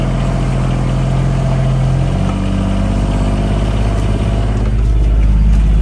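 A Gator utility vehicle engine runs steadily with a loud, continuous low rumble, close by, rising slightly toward the end.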